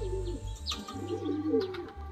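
Madrasi pigeons coo in soft, low, repeated calls that rise and fall through the short stretch, close by and fairly quiet, with a steady low hum running underneath.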